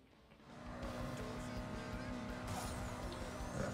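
Engine roar and tire noise from a car drifting in the mobile racing game Need for Speed No Limits, a sustained loud revving drone that builds up after a quieter start and holds steady.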